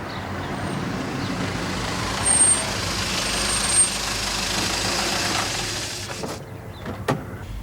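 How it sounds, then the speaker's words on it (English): A large vehicle pulls up on a residential street, its engine rumbling steadily before a hiss of air brakes and a couple of sharp clunks as it stops. "Car containing 2 men just pulled up."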